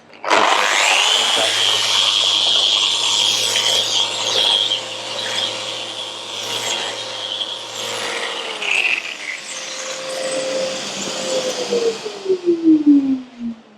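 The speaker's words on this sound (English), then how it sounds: "we'll just sand them off to this is like an 80 grit" Steady rough scraping and whirring of 80-grit sanding against Black Wattle wood, removing router marks, continuous for several seconds, then tapering off into a falling mechanical whine.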